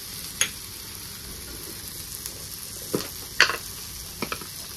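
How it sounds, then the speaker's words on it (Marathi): Spices, turmeric, coriander powder, garam masala, chilli and chopped coriander, being stirred through a sizzling masala pav mixture in a pan, with a low steady fry and a few sharp spoon scrapes and clinks, no talking. "छान असं मसाले मिक्स करून घेते"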